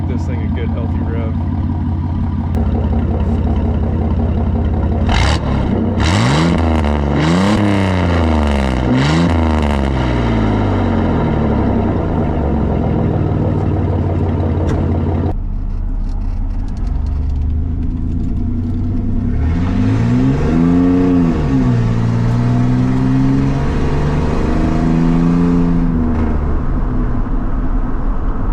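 A Chevrolet S10 pickup with a cheap side exit exhaust revs hard several times, the engine climbing and falling in loud close sweeps over a rumbling idle, with a second burst of revving later.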